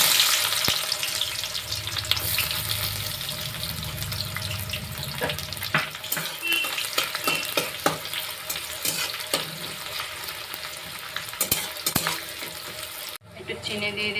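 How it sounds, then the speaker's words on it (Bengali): Onions sizzling and frying in a pan while being stirred for a chicken curry, a steady close crackle with scraping stirs and occasional clinks throughout. "ভাজা হয়ে গেছে, এবার আমি পেঁয়াজগুলো দিয়ে দেবো"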